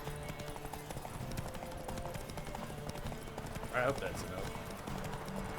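Hooves clip-clop steadily from a horse in The Witcher 3: Wild Hunt, a rhythmic game sound effect running under constant spoken commentary, with a brief brighter accent near the middle.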